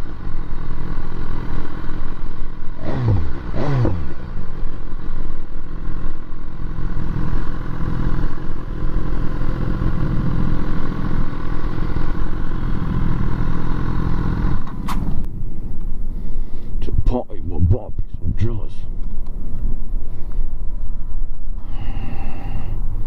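A BMW motorcycle engine runs loud and steady throughout, a dense continuous drone with brief rattles and revving bursts midway and near the end, and no talking.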